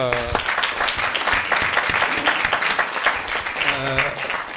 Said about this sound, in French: je tiens vraiment encore à vous applaudir